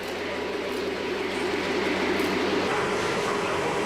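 A Lionel toy train locomotive runs on its track, heard from tiny microphones in its cab: a steady close rolling rumble and rattle, continuous and fairly loud.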